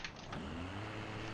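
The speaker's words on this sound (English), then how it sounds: "It sounds better though, this car, and it's actually got a little bit of a buzzy sense to it." A buzzy car engine from the BeamNG.drive driving game drones steadily with a low hum and a rising whine, loud and continuous throughout.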